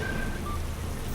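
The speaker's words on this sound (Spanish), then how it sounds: "¡Está lloviendo, chicos!" Rain falls steadily as a dense, even hiss of drops with no gaps, heard alone for just over a second.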